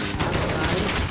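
Dense automatic gunfire erupts in a Call of Duty Modern Warfare firefight, rapid overlapping shots forming a loud, continuous fusillade, with a voice briefly talking underneath.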